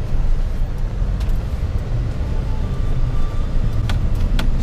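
A car gathers speed on open ground to drive figure-eights, heard as a loud steady engine and tyre rumble from inside with a few faint clicks and no speech.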